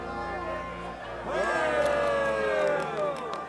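Crowd at a tiebreaker duel in Kingdom Come: Deliverance II, a swelling wave of cheering and voices rising midway and holding loud through the rest, with spoken game dialogue mixed in.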